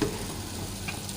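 Half a cup of cooking oil goes into a pan of mutton karahi and sizzles in a steady, fairly faint hiss that stays even for a moment, with no voices.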